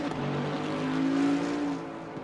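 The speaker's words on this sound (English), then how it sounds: "I was going to go on chase cam for a minute to literally listen to this Bentley" A Bentley race car engine in the racing game Assetto Corsa Competizione at the Nürburgring drones loudly with a rising, sustained tonal whine as it accelerates, heard from chase camera, then eases off slightly; no speech.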